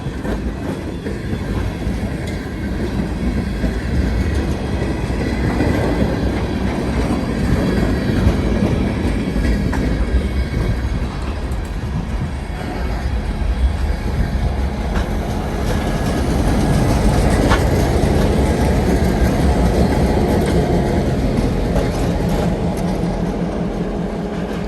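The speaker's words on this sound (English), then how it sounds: "got a caboose in the snow on a Friday afternoon" A freight train with a caboose rolls past in snow on a Friday afternoon, a loud, steady close rumble of wheels and cars with clickety-clack rhythm running the whole time, no voices.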